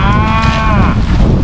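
Cattle in a cow herd being moved back toward the barn for pregnancy testing, with several overlapping moos ringing out loud and close over a constant low rumble of farm noise.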